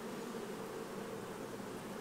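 Honeybees in an open hive during a summer colony split make a dense, steady buzzing hum, close and unbroken from start to finish with no voices.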